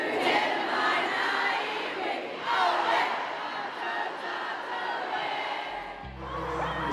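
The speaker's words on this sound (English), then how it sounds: "everybody in the crowd just started freaking out" A large concert crowd at a show in Auckland cheers, screams and sings along, a dense sustained roar that swells and falls with no break throughout.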